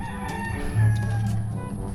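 A rooster crows once nearby, a drawn-out call rising above a busy background of other birds and ambient noise.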